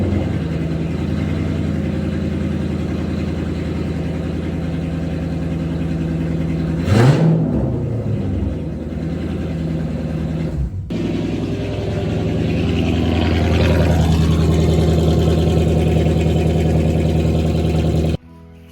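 A Dodge Charger engine runs through a straight-piped exhaust with no mufflers, idling with a loud steady drone, then a short rev swells midway before the engine settles and climbs again, close and unbroken by talk.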